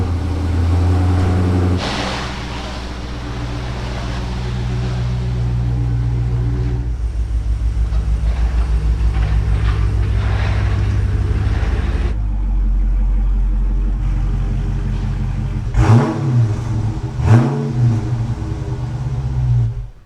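Chevrolet Silverado pickup truck driving slowly into a garage, engine humming steadily and close with a few throttle blips and shifts in tone toward the end, no voices.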